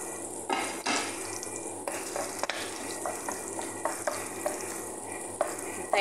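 Garlic frying in a pan while being stirred for Arabic stuffed vegetables, a steady close sizzle with scraping stir strokes and occasional clinks, no voices.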